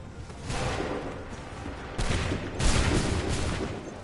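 Musket volleys in the video game Assassin's Creed 3, dense crackling bursts of gunfire rolling across a battlefield in several waves, moderately loud with a rumbling background.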